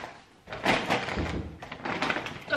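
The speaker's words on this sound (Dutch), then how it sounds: "Dat geluid dat jullie horen is de deur wat zo half dicht waait door de wind." A door blown half shut by the wind at home, giving a couple of dull wooden thumps and rattles close by, loud against a quiet room.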